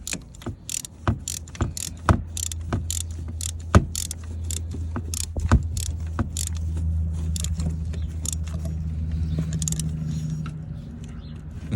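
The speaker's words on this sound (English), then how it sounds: "you could just work your ratchet right here" A ratchet with a short 6-inch extension and deep 1/2-inch drive socket turns a bolt on a 1999 Dodge Durango 5.9 during crank sensor replacement, giving rapid repeated clicks up close, then a steadier mechanical whir toward the end.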